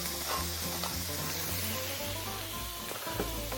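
Sea bream skin sizzles steadily as it grills in a pan, a continuous close frying hiss with light stirring texture and no talk.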